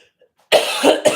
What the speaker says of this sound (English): This cough is kicking my butt